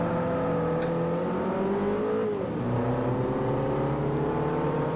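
A Lamborghini engine in the Forza Motorsport 4 racing game drones loudly and steadily, its pitch climbing through the gears with a brief dip at a shift partway through, near and unbroken, with no voices.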